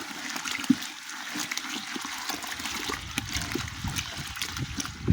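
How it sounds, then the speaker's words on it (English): Water is stirred in a bucket, giving a continuous soft sloshing and trickling with small splashes, fairly close and moderately quiet, with no speech. "So I just added water. This is all covered. Give it a good stir."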